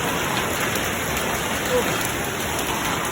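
Hail falls on a Paris street as a dense, steady patter and hiss of ice pieces striking surfaces, loud and continuous throughout with no clear talk.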